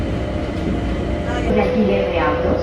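A metro train in a Caribbean city runs along its rails with a steady, close rumble and a rising hiss, while a Spanish-language announcement plays over the interior.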